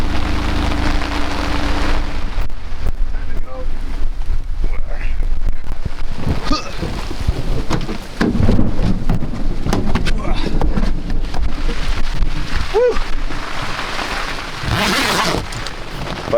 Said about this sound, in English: If I can just get a good lull in the storm, I will make a run for the cabin.